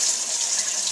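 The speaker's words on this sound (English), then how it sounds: "we're going to wait and we're going to let the water get warm and we're going to try it again" Warm water runs steadily from a tap into a sink during handwashing, a continuous close hiss and splash with no speech.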